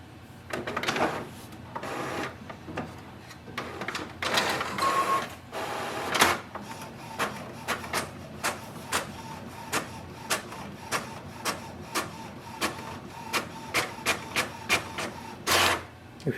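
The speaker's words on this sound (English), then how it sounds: "Let's print the welcome sheet." HP OfficeJet Pro 8139e inkjet printer running off a setup welcome sheet: mechanical whirring, then a steady series of rhythmic carriage clicks and shuttles, close and moderately loud.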